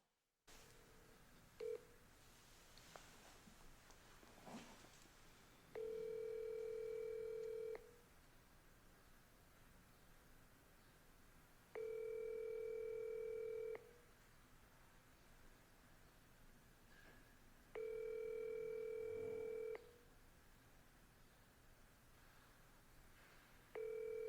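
Ringback on an outgoing cold call: three long, steady ring tones of about two seconds each, spaced roughly four seconds apart, with the start of a fourth at the end. A few faint clicks and soft line hiss fill the gaps.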